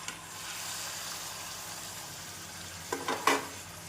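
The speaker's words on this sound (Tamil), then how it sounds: "எண்ணெய் சூடானதும் நறுக்கிய தக்காளியை சேர்த்து விடலாம்." Chopped tomatoes sizzle and fry in hot oil with a soft, steady hiss, and a couple of brief clatters come near the end.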